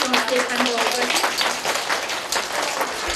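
A crowd at a kindergarten gallery opening claps for a young child whose work is on display. The applause is lively and close, with voices mixed in.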